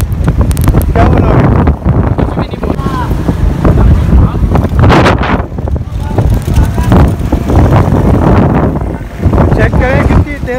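Strong wind buffets the microphone outdoors in loud, rumbling gusts that swell and ease throughout, with people talking underneath.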